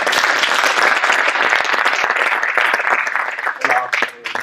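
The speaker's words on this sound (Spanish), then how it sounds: "Muchas gracias, un aplauso." Audience applause fills a hall at a maker show talk, dense steady clapping from many hands throughout, thinning slightly near the end.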